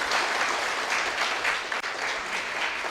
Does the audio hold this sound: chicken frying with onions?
no